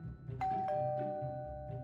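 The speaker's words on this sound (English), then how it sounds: "What was that? Doorbell!" A doorbell in the Minecraft video game chimes twice in quick succession, clear tones ringing over a low background music bed.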